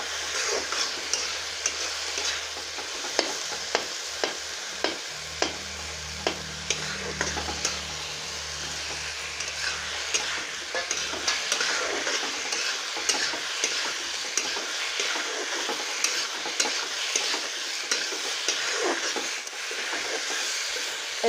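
Tomatoes sizzle steadily in a hot pan for paneer curry while a spoon scrapes and stirs them in repeated regular strokes, close up, with low clatter underneath and no talking.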